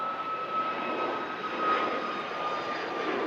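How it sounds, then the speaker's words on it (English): A Ryanair jet airliner departing Manchester Airport for Budapest, its engines giving a steady, loud roar with a high whine that holds throughout; no voices. "That Ryanair heading out to Budapest."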